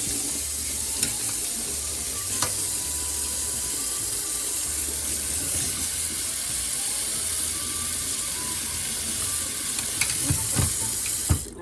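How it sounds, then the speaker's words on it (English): A tap runs steadily while an old paint brush is rinsed beneath it, a continuous close splashing hiss with a few brief clinks and knocks. "I'm gonna give it a rinse."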